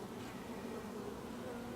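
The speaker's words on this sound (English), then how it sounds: "There's a bee." Honeybees buzz steadily during an open beehive inspection in late July, a continuous faint hum of many bees close by with no talking.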